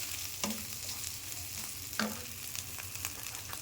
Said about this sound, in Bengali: পেঁয়াজ, রসুন, আদা ভাজা ভাজা হয়ে গেছে দেখুন